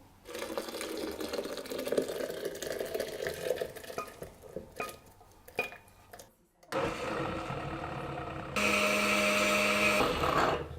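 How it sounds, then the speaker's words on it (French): A blender purées cooked pea and peanut soup, a loud, steady whirring that shifts pitch partway through, pauses briefly, then returns with a sharper, higher motor whine at the end. "donc je vais tout mixer au blender."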